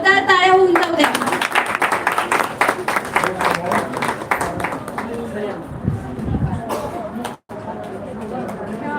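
Applause at a state-level poetry gathering and awards ceremony, with claps pulsing loudly in the opening seconds and fading into crowd chatter, a voice and some talk.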